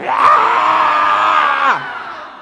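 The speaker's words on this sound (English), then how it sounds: "we will all scream. Our lungs out." Crowd at a youth forum scream together at full volume in one sustained, loud burst lasting about two seconds, then cut off abruptly and fade.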